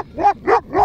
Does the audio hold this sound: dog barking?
yes